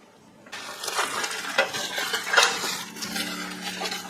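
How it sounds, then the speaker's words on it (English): Silver-plate platter and dishes being handled, metal pieces clinking and scraping against each other in a close, busy jumble of rattles and light taps after a quiet start. "Platter, dishes,"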